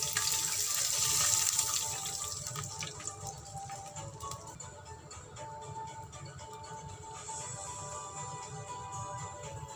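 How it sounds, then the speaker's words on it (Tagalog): Three-quarters of a cup of water pouring into a pan holding lightly browned fish fillet for bistek tagalog, a steady close splashing rush that eases into a quieter hiss. "lalagyan ko po siya ng water, 3/4 cup"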